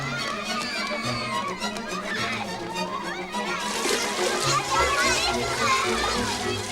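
Excited children's voices shout and chatter over a busy background with some water splashing, loud and continuous throughout.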